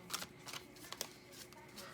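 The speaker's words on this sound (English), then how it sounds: "let's just keep shuffling" A deck of cards is shuffled in several quick riffling bursts, soft and close, with brief pauses between them.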